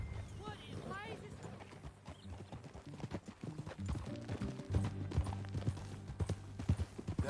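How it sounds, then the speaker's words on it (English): Horse hooves clip-clop in a steady rhythm as a rider travels in Red Dead Redemption 2, close and moderately loud, with a voice talking over the hooves partway through. "That a new horse?"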